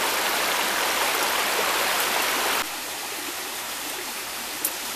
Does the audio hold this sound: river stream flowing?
yes